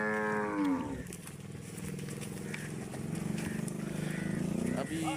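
Cattle lowing in a village farmyard, one long loud moo opening the sequence, then lower bovine calls and livestock movement continuing under someone speaking nearby.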